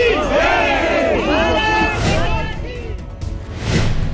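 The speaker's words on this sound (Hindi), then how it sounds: "न्यूयॉर्क के सेंट्रल पार्क में मोदी को सुनने उमड़ी भारी भीड़।" A huge crowd gathered outside the United Nations office in New York raises loud chanting cheers, with rising shouts and dense babble of many voices swelling and fading.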